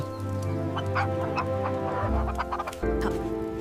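A hen clucks in short repeated calls over a constant low hum and background drone.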